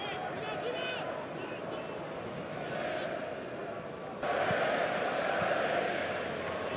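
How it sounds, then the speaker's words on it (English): A large football stadium crowd at Barcelona versus Benfica sings a sustained olé chant, a broad, swelling roar of many voices that lifts louder partway through, with commentary over it. "The crowd certainly enjoying it, giving it the olays with every pass"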